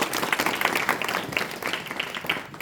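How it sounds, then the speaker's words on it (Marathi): An audience at a Harinam Saptah religious gathering in Rahuri claps loudly and steadily in honour of Chhatrapati Shivaji Maharaj, a dense, continuous roll of applause throughout. "त्या छत्रपती शिवाजी महाराजांसाठी एकदा जोरदार टाळ्यांचा गडगड"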